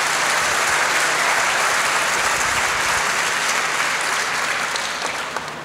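Audience applause fills a festival stage talk at Pol'and'Rock 2021, steady and dense clapping from a large crowd throughout, tapering slightly at the end.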